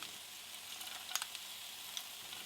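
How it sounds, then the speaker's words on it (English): Pork frying in rendered fat with slit green chilies, dried bamboo shoot, ginger and soaked Bengal gram, giving a soft, steady sizzle with a few sharper crackles, faint and even throughout. "Once the fat begins to release, add your slit green chilies, dried bamboo shoot, ginger, soaked Bengal gram"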